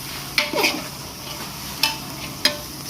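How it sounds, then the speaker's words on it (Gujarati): Cluster beans (guvar) fry in oil with a steady sizzle, punctuated by several crisp clicks and scrapes of a spoon stirring against the pan. "આપણે ગુવારને પહેલાં ફ્રાય કરી લેશું તેલમાં"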